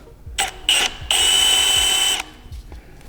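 A power drill with a 11/32-inch bit whirs into a damaged Titan engine block in several short bursts, then runs steadily for over a second before stopping, close and loud.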